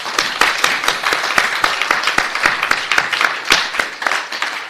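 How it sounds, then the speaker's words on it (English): Audience applause after thanks at a research software engineering meetup, a steady crowd of dense clapping close by that rises and falls slightly for several seconds with no voices over it. "So a big round of applause for all of those people, including yourself"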